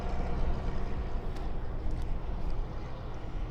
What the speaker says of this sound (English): Sorry about the truck noise.